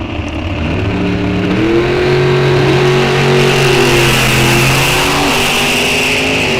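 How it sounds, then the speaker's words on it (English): A small block Chevy powered dragster launches at a drag strip in Wisconsin, its engine roaring very loud and rising in pitch, a second car revving alongside, with no voices over it. "The small block Chevy powered dragster in the right lane."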